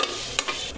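Close-up stirring and scraping of a paste sautéing in a hot pan for beef paaya, with a steady background sizzle and a few sharper clinks of a spoon against metal.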